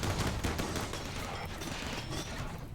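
Rapid fusillade of auto cannon fire from RimWorld, a busy stream of sharp repeated shots and low booms that keeps up at an even, loud level throughout, no voices present.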